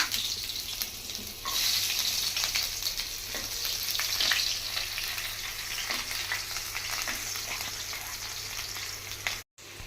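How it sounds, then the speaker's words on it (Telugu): Chopped onions frying in a pan with spices for tomato rice, a continuous bright sizzle with crackling pops and occasional stirring scrapes, close and steady. "ఇప్పుడు ఉల్లిగడ్డ వేసుకుంటున్నా"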